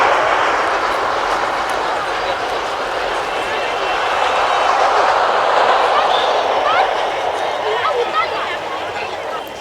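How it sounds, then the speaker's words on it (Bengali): A train rumbles past behind a flower garden at the Khirai valley, a steady broad roar lasting throughout, with voices of a crowd faintly mixed in. "এর পেছনে ট্রেন যাচ্ছে"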